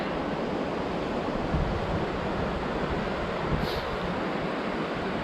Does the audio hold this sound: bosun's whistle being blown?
no